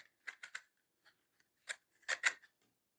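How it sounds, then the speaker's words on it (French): Scissors snipping a small piece of ribbon, close and quiet: a quick cluster of three crisp cuts, a few faint clicks, then another short run of snips. "Je vais couper juste un petit bout ici, faire une pointe pour être plus facile à passer."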